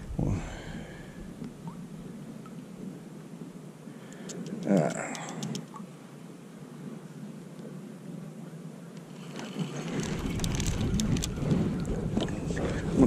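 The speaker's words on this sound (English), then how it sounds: "That wind is not friendly." Wind buffets the microphone on a boat during winter bass fishing on Lake Hickory, North Carolina. A low, rumbling gusty roar fades midway and then rises again, with faint ticks and rattles.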